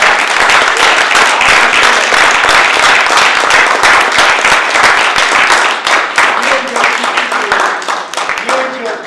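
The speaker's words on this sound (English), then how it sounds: "So big applause." Loud, close applause from conference attendees at the Legacy of 1848 Conference at Wartburg College, a dense rattle of many hands that thins and fades toward the end as a voice begins to come through.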